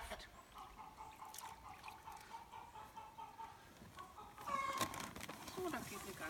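Lively hens clucking and cackling after laying one or two eggs, a steady busy flock sound with a louder burst near the end, mixed with a watery wash-like background.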